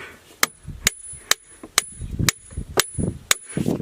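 A hammer strikes a small anvil floating in a bath of mercury, eight sharp, evenly spaced metallic clinks ringing close and loud, with quieter handling noises between the blows.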